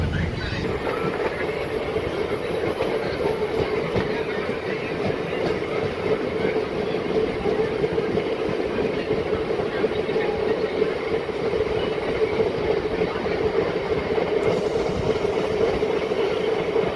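A MEMU local train running from Vijayawada towards Machilipatnam gives a steady, loud rumble with continuous rolling wheel clatter from start to finish. It is heard from inside the coach, with no clear talk over it.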